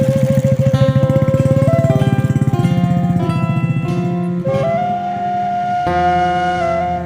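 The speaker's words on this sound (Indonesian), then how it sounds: "Ada yang motor lewat sahabat" A motorcycle engine on a rural plantation road in Sunda, Indonesia, with a throbbing engine note that rises and shifts pitch as it passes close by, loud and alone without talk.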